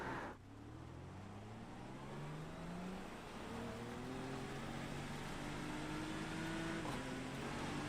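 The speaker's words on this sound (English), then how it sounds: "You just hear the back tires spinning trying to get traction." A race car's engine in iRacing revs and whines in the rain at Daytona as the rear tires spin for traction, its pitch climbing and holding in a sustained steady drone.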